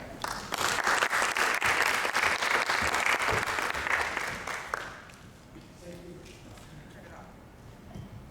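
Sustained audience applause welcomes the moderator at a school district candidate forum, steady and fairly close for about five seconds, then fading into room noise.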